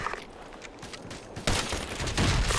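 Rapid bursts of gunfire in the video game Ghost Recon Advanced Warfighter 2, quieter at first, then a loud sustained volley of shots crackling through the second half.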